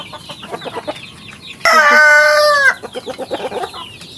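Pet chickens at feeding time, with soft rapid clucking around a single loud, close crowing call from a rooster near the middle.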